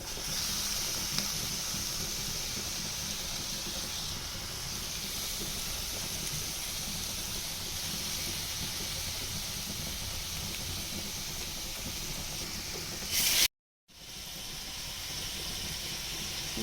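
Boneless chicken sizzles in a pan with green chili paste, a steady soft hiss and crackle throughout, with a brief dropout to silence near the end before the frying resumes.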